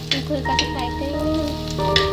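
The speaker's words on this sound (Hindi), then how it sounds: "हल्का सा फ्राई करेंगे।" Onions frying in hot oil for peri peri rice, a steady close sizzle with light stirring scrapes, over a constant background tone.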